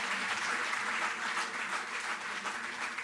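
An audience claps steadily for an athlete at a government sports award ceremony, a dense, even wash of applause in a hall that carries on without pause.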